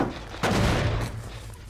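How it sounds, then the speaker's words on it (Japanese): A sudden explosion-like burst inside the Dead by Daylight video game strikes loud partway through, then decays into a rumbling tail over low background hum. "なんだ今の爆発"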